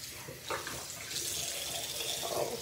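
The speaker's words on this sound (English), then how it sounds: "And you're just going to rinse it out." A basketball shoe is rinsed under a running tap at a sink, water splashing steadily against it with a continuous broadband rush for a few seconds.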